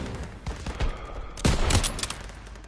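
Bursts of rifle and machine-gun fire in Call of Duty: WWII, a few loud, rough volleys in quick succession amid battle noise.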